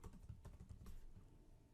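A username and password are typed on a computer keyboard, giving a quick run of soft, close key clicks in an otherwise quiet room with no talking.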